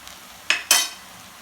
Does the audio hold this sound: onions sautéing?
yes